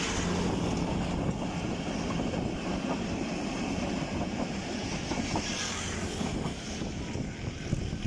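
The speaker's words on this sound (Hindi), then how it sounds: "ये सामने आपको लाइटें नज़र आ रही हैं, ये 46 डाउन पाकिस्तान एक्सप्रेस की हैं।" The 46 Down Pakistan Express runs near Gaddar railway station outside Karachi. A continuous low rumble with rattling undertones persists throughout, mixed with wind buffeting the microphone, and no one speaks.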